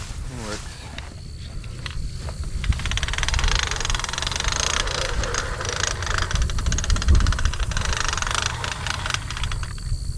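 An engine cranks over and fires up, then runs with a rough, rattly idle that holds steady and close for several seconds, with footsteps and people talking nearby.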